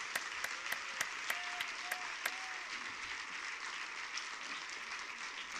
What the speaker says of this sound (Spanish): Vamos a darle un fuerte aplauso a Dios porque se lo merece.